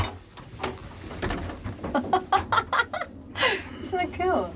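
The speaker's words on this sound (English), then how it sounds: "Look at the bird." A bird calls repeatedly on a ferry crossing to Orkney, with a run of short, clucking notes in close succession, mixed with people talking nearby.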